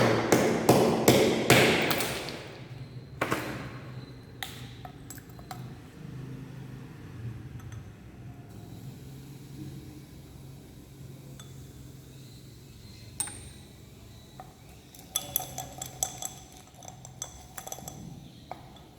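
Ice is dropped into a glass beaker in a chemistry lab, a quick burst of loud clinking and rattling at the start, followed by quieter intermittent taps and clinks of glassware against a low room hum.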